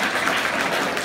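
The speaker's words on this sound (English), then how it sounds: "Give me applause for that, okay?" Audience applause fills a brief moment at a congressional town-hall coffee hour, a dense wash of clapping from a crowd, steady and moderately loud throughout.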